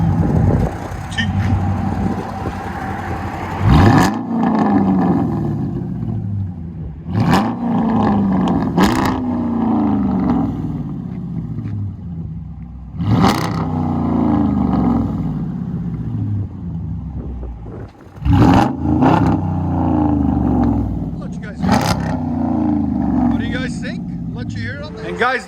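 White Dodge Durango with a Hemi engine and aftermarket muffler, revving repeatedly in loud deep bursts with rumbling idle between, people talking over it.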